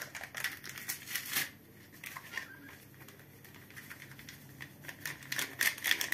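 A Cake Chef cake mix bag crinkling as it is opened in a home kitchen, close and fairly soft, with repeated bursts of plastic rustling and tearing separated by short quieter pauses.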